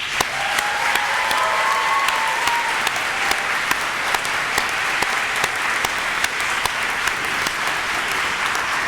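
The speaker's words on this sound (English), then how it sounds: "So will you give a round of applause to these people," Sustained applause from a large audience at a University of Reading summer graduation ceremony, a steady dense wash of clapping lasting throughout with occasional sharper claps standing out, no voices over it.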